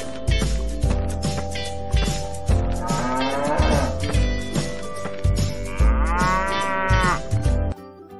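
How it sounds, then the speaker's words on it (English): A cow moos twice in long, drawn-out bellows over a steady backing of children's song music. "C for cow."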